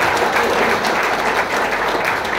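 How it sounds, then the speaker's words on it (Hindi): An audience at a marketing plan seminar breaks into sustained applause, dense steady clapping filling the room from start to finish with no pauses. "तालियां सर के लिए हो जाए,"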